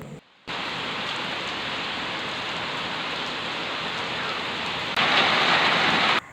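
Heavy rain pours down in a dense, steady hiss, growing louder and brighter near the end before cutting off, with no voices over it.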